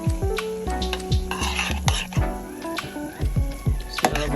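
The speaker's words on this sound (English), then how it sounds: "As it's cooking down, I'm going in with some minced garlic" Minced garlic sizzles in a pan of meat sauce cooking down for baked lasagna, with a steady frying hiss under repeated clinks and scrapes of a utensil against the pan.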